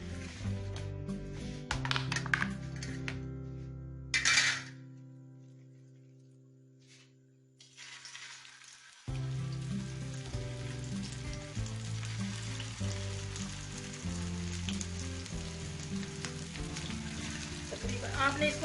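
Chicken tikki kababs fry in hot oil over low heat, giving a steady close sizzle that drops away mid-clip and then returns strongly with light bubbling crackle, while faint background music plays.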